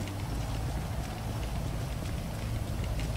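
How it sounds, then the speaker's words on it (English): Rain falls steadily in a GTA 5 street scene, an even broadband hiss of drops that holds at a constant level for several seconds, with no talk over it. "It'll start raining out here too."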